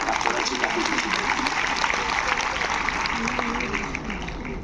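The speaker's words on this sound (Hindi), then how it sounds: "मैं चाहूंगा आप सबकी जोरदार ताली" Sustained audience applause in a large hall at a spiritual gathering at Bharat Mandapam, a dense steady clatter of clapping held at even loudness for nearly five seconds before easing slightly at the end, with a faint voice murmuring underneath.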